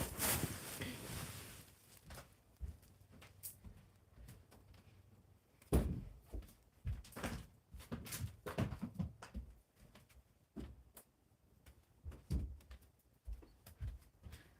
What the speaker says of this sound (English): let me close the door and I'll be right back.